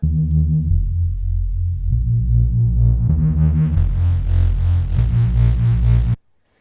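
A thick, growling bass drone with a gritty, distorted edge, repeating in pulsing notes as its tone opens up brighter, washed in reverb, then cutting off abruptly.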